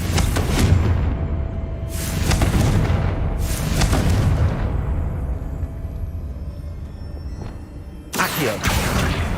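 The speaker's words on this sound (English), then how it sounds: "Confringo!" Confringo fire spell blasts in Hogwarts Legacy, a series of loud, booming explosions about two seconds apart, each with a broad crackling burst and rumbling tail, over a constant low game ambience.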